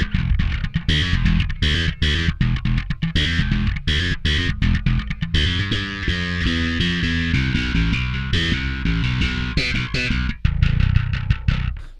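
Electric guitar through a tight overdrive distortion, chugging palm-muted riffs and short stabbing chords with crisp stops and gaps, then ringing sustained notes, played alone and loud.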